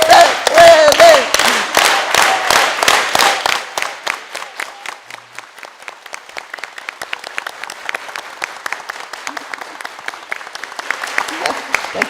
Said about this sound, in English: Okay, let's do the clap.